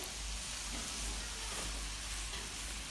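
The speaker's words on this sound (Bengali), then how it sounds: "মশলাগুলো অনেকক্ষণ নেড়ে চেড়ে ভালোভাবে কষিয়ে নিতে হবে।" Spice paste for a rui fish curry fries in oil while being stirred, producing a dense, continuous close sizzle with faint stirring movement beneath.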